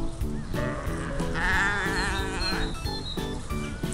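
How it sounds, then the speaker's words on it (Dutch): Several sheep bleat repeatedly near and far in a flock with lambs on a farm, overlapping wavering cries in a steady rhythm, with faint buzzing of flies around. "Allemaal schapen."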